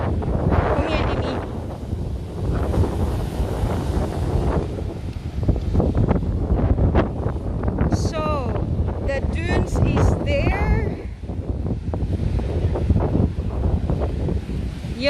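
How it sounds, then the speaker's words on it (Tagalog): Strong wind roars steadily across the microphone at Maspalomas beach on Gran Canaria, with rough surf behind it and people talking throughout. "pero masyadong mahangin"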